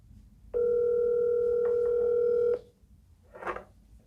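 A telephone dial tone sounds while a call is placed, a steady two-second electronic hum that cuts off abruptly, followed by a short soft noise burst.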